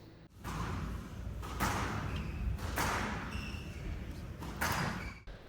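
Squash ball volleys in a solo drill, sharp thwacks of racket on ball spaced about a second apart with echoing court slaps, close and loud over a steady background hiss.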